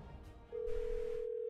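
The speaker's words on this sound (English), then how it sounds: "Oh, phone call." A telephone rings in the video game Troubleshooter: Abandoned Children, a single steady electronic tone that starts suddenly and holds for about a second over quiet background.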